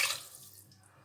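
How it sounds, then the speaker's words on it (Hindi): Water is poured into a pressure cooker for mutton yakhni pulao: a short, close splash that quickly fades to a faint trickle. "इसमें डालूँगी 1 गिलास पानी, 2 गिलास पानी"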